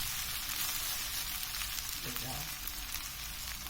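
Oil sizzles and crackles steadily in a frying pan while stuffed zucchini is being cooked, a close, continuous hiss with faint stirring sounds.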